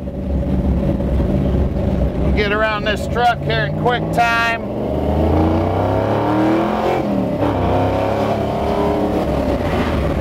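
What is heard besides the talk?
Ford Mustang exhaust purring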